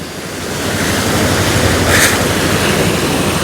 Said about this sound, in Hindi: ये जो तगड़े तगड़े रैपिड अभी बन रहे हैं